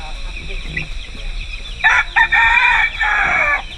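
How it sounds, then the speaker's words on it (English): A rooster crows loudly nearby in a long drawn-out call, with scattered clucking of many chickens and bird chatter before it, in Cebu, Philippines. "There's the lots of chickens here."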